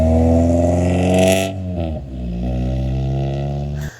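A Honda Civic engine with a DNA exhaust and no muffler drones loud and raspy up close, a buzzy tone that dips briefly as the revs fall, then settles into a steady rumble; no voices.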